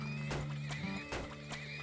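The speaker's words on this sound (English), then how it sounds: "go put four horses down and then upgrade all the horse wagons" Horses neigh in the video game Turmoil, with a couple of whinnies heard over rhythmic clip-clopping hooves and a low game drone beneath.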